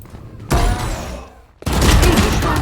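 Gunfire in the Valorant video game: two loud, sustained bursts of rapid shots, the second starting after a short pause and running to the end.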